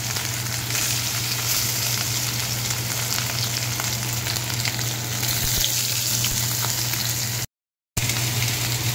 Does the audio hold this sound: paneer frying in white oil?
yes